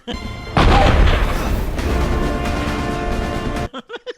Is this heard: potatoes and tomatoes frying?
no